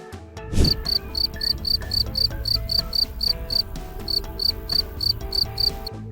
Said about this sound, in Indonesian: kita pelajari dulu tentang suara jangkrik